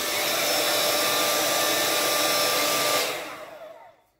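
A Nora Styler New York 5-in-1 hairstyler blows air to dry hair, a loud, steady broadband whoosh with a faint whine that runs evenly, then powers down and fades out at the end.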